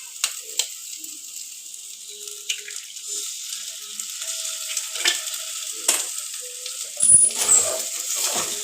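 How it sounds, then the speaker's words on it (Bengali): Egg frying in hot oil with stir-fried vegetables for chowmein, a steady sizzle and crackle with scattered utensil clinks and scraping, growing busier toward the end, heard close with no talking. "এবার আমি এতে একটা ডিম ভেঙে দিচ্ছি।"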